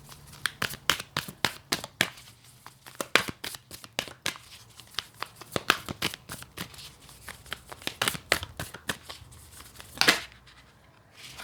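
Tarot and oracle cards being shuffled and drawn by hand, producing a quick run of crisp, close card snaps and riffles with a brief rustle near the end.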